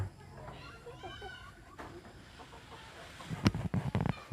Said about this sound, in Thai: คล้ายๆคือไก่ไข่เนาะ